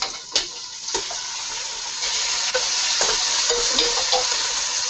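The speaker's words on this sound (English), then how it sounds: "So now I'm going to add my beef" Beef sizzles loudly as it goes into a hot pot of browned sugar for Caribbean cooking. A steady frying hiss continues with soft stirring scrapes and small pops, with no talking.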